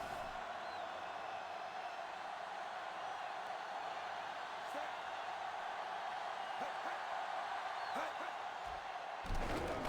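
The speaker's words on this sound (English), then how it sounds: "This Hamilton crowd cheering on the defense." Crowd at a football stadium for a Hamilton Rollers home game against the Seattle Stoats, a continuous distant roar of cheering that holds steady throughout, with a brief louder swell at the very end.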